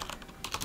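Quick typing on a computer keyboard while entering a script command, a short run of soft, close key taps in a steady burst with no voices.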